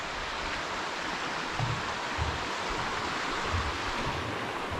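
Baker Creek in Great Basin National Park, Nevada, flows beside a picnic area with a steady, soft rushing hiss of moving water and no voices.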